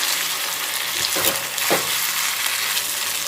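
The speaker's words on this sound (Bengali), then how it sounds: "এই যে দেখতেই পাচ্ছ একদিক ভাজা ভাজা হয়ে গেছে। তো চলো একটা দিকে উল্টে দিই।" Fish frying in oil in a small kadai, a steady close sizzle throughout with brief louder bursts as the pieces are turned over.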